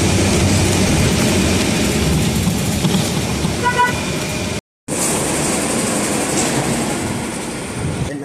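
A PATH train bound for Newark rides the rails in a loud, steady rumble of wheels and carriage noise heard from on board. The sound cuts out briefly partway through, then resumes just as loud.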